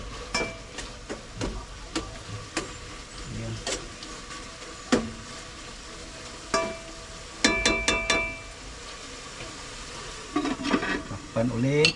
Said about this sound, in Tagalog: Kulang pa yung karne, hindi pa siya masyadong naluto.